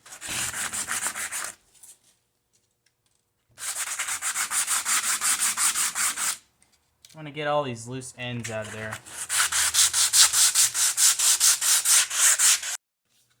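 Rhythmic back-and-forth scraping of sandpaper on a wooden mount for a gopher snake skin, in several long bouts, close and loud, with a brief spoken remark between strokes.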